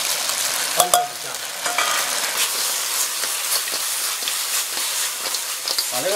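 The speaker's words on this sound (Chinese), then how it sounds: "我们勾好芡之后，加点葱段下去就可以了，翻炒一下。" Crab stir-fried in a wok with scallion pieces and a cornstarch-thickened sauce: close, loud sizzling with scraping spatula strokes and a sharp metallic clang early on.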